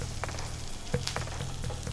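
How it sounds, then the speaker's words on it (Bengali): Shahi bread omelet frying in a pan, a low steady sizzle with small crackles and a faint tap, close and quiet. "এপিট ওপিট করে ভালো করে ভেজে নেব।"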